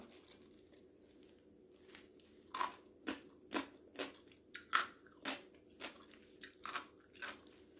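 Crunchy Korean pickled cucumber (oiji), salted and unrinsed, bitten and chewed close up, about a dozen crisp crunching bites in an uneven rhythm over quiet background, with no talking.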